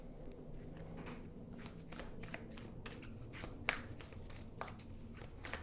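Tarot cards are shuffled and drawn by hand at close range, a quiet stream of riffling, flicking and soft slaps with a few sharper snaps, heard alone without talk.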